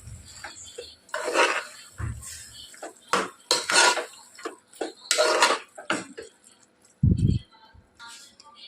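A spoon clanks and scrapes against a pan as washed minced mutton keema is mixed in. The bursts are irregular and close, with a low thud near the end.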